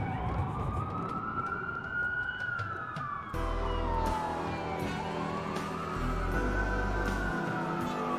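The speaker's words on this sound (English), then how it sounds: "That's a lot of sirens for a blackout." Wailing police sirens in the video game Watch Dogs rise and fall continuously, overlapping one another, with a low rumbling engine drone underneath throughout.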